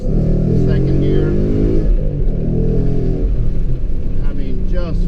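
A 2015 Mustang GT with a Coyote engine and a Gibson exhaust revs hard in second gear, giving a loud, deep, continuous roar with rising harmonics close by. A voice talks over the engine near the end.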